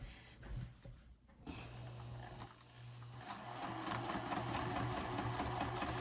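A sewing machine runs a quarter-inch seam while making a double-pocket wristlet clutch. It starts after a few quiet handling noises, then hums steadily and grows louder toward the end.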